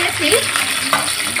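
Chicken meat sizzles steadily in a hot pan, a dense close frying hiss with faint stirring scrapes throughout.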